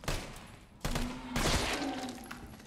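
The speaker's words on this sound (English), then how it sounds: "Why is the accuracy on this gun is so bad" Bursts of gunfire from a weapon in the video game Resident Evil 3 Remake, several loud sharp shots in quick succession with a fusillade-like clatter, heard alone without talk.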